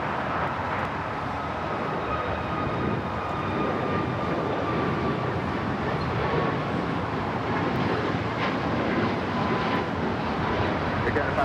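An Air Canada Boeing 737 MAX 8 on its takeoff run at Los Angeles airport, a steady, broad jet engine roar holding at an even level from a distance throughout, with faint tonal whines above it.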